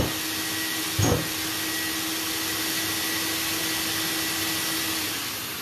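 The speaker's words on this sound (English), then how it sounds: "When I depress my sander, it automatically turns on my vacuum now." A SurfPrep shop vacuum connected to a SurfPrep sander runs as a steady, loud whoosh with a constant hum, a brief bump near the start, then winds down slightly at the end.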